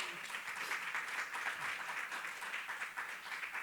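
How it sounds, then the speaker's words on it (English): Audience applause at a school reunion gathering fills the room with a steady, moderately faint wash of many hands clapping, sustained evenly without a clear end. "Round of applause."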